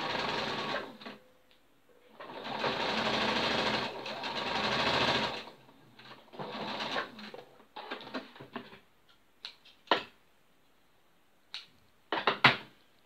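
A sewing machine stitches an open seam on a little girl's dress in several bursts of rapid whirring, some long and some short, separated by pauses and followed by brief mechanical clicks.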